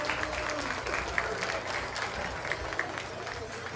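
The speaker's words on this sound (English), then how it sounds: "If you would, give these two a round of applause." Applause from spectators at a 4-H/FFA beef show at the Greenup County Fair for two kids in the feeder calf class, steady clapping mixed with crowd noise and a few sharper claps.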